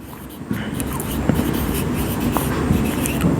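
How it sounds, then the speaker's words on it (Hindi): Close, steady scratching of a pen writing on paper for a few seconds, with small tapping strokes in between and no talk. "आइए इसको लिखेंगे"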